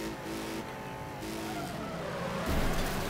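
A car in the racing game Wreckfest revs and accelerates with a steady engine drone, rising in pitch and swelling louder near the end, with no talk over it.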